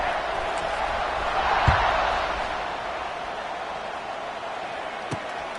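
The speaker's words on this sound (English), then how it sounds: "this crowd is buzzing after that last score" Crowd at a college football game against Georgia Tech, a steady broad roar that swells briefly near the two-second mark, with a couple of sharp thumps, heard from the stands without clear speech.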